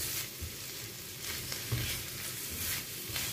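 Garlic, shrimp and onions sizzle in a pan for fried rice, a dense, even frying hiss with soft stirring scrapes, fairly quiet and close, no talking.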